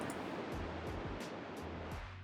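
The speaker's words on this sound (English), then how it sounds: "If you click that, it just sends a short burst of noise" A reverb plugin in Fender Studio Pro 8 fires short bursts of noise as test pings. About six quick, evenly spaced bursts each trail off into a brief reverberant tail, fairly faint overall.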